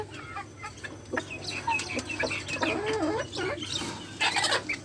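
A sick red hen kept on an upper shelf clucks repeatedly close by, a series of short, wavering calls with brief pauses between, with no speech over it.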